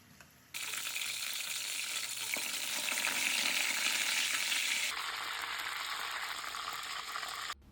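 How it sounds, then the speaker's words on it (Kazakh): Chebureki fry in hot oil, a steady, loud broadband sizzle that starts abruptly and holds for several seconds, then drops slightly in level before cutting off. "Қызып тұрған майға салып, екі жағын қызартып пісіріп аламыз."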